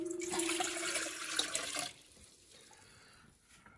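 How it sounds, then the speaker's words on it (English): Lukewarm water poured into a mixing bowl for Neapolitan pizza dough, a splashing stream for about two seconds that stops abruptly, leaving only quiet room sound. "So to start off, we're going to put the water into the mixing bowl."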